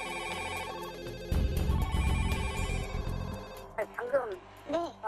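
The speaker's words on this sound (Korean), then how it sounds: "시흥소방서의 전화기가 동시에 울리기 시작했다." Several telephones at a fire station ring at once, their electronic tones layered and continuous, joined midway by a lower rumble and then by speech.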